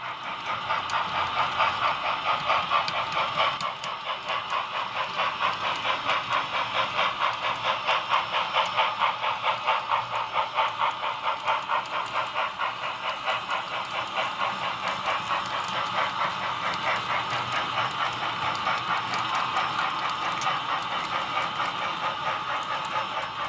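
A small HO scale model train runs steadily on a layout, its wheels clicking in a fast, even rhythm with a constant whirring motor throughout.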